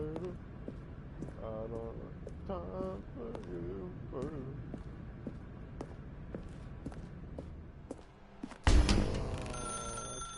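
A telephone rings loudly and abruptly near the end, with a harsh bright ring following a stretch of someone narrating in a quiet room.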